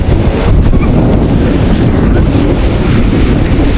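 Rough sea around Coron rolls under heavy wind buffeting a microphone on a boat, producing a loud, continuous rushing roar without clear breaks.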